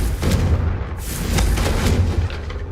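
Confringo fire-spell blasts in the Hogwarts Legacy video game, a dense, continuous run of booming explosive bursts that stays loud and close, with no talking over it.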